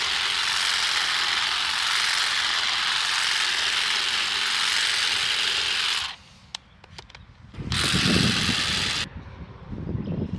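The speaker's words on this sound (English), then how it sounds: "the Saker little battery operated hedge trimmer part does okay if you're in, well, little stuff" A Saker cordless battery hedge trimmer buzzes steadily at close range for about six seconds, stops with a few small clicks and snaps, then runs again in shorter rasping bursts.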